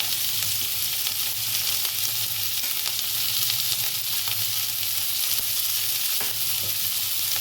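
Carrots, beans and capsicum sizzle steadily in a hot wok while being fried for vegetable noodles, a continuous close hiss with light stirring clicks throughout.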